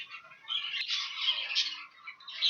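Young aviary birds squawk in a steady, harsh, overlapping chorus close by, raspy calls rising and falling without pause.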